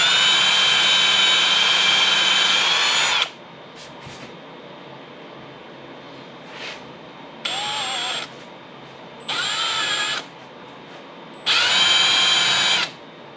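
A power drill bores holes for placing a guitar bridge: one long high whine, then three shorter bursts separated by quiet gaps, loud and close, with brief faint spin-up chirps between bursts.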